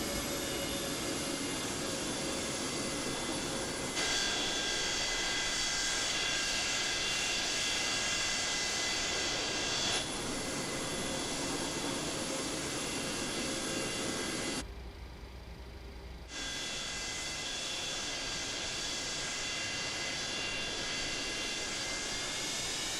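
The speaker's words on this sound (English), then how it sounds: "I'm really worried about the takeoff roll," A Boeing 727 in Microsoft Flight Simulator rolls down the runway for takeoff, its jet engines roaring in a loud, steady broadband drone with a whining tone, briefly dipping about two-thirds of the way through before resuming.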